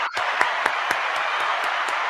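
Canned applause played off a Tom Mabe soundboard: steady, dense crowd clapping and cheering at even loudness with regular rhythmic accents throughout.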